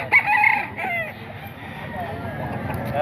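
A small Gilmore gamefowl stag crows amid a busy market with talk throughout, the call mostly at the start and partly masked by the voices around it.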